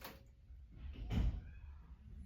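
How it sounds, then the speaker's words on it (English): A door opens or closes somewhere in a quiet room in Branson, a soft muffled thud with a brief rumble rising over low background hum. "That was somebody opening the door or closing the door."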